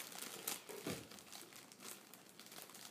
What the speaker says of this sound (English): open up the card. See what it says.